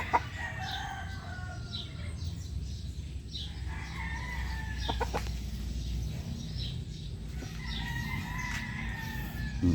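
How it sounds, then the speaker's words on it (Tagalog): A rooster crows a few times over a steady low rumble of background noise, with other fowl calling faintly in the distance. "Tandang pa to, tandang."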